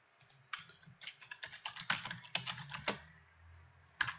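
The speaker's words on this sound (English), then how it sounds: "we can just type in the text that we're after" Keys clatter on a computer keyboard as text is typed, a close run of quick irregular clicks with a brief pause before one last keystroke.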